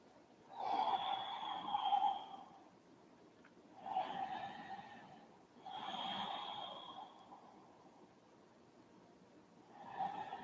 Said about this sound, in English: always deep breathing with sound, always breathing in and out through the nose